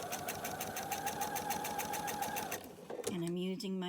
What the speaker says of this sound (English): now I'm going to stitch right along that edge